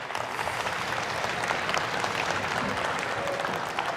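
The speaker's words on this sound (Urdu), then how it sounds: "تالیاں بے شک بجاتے رہیں, خود ہی ختم ہو جائیں گی." Audience applause in a convention hall, dense and steady clapping from a large crowd filling the whole stretch without pause.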